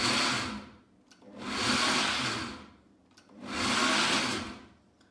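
Three separate pulses of a Kenwood Cooking Chef mini bowl blitzing pesto, each a loud whirring burst about a second long with brief gaps between, nothing else audible.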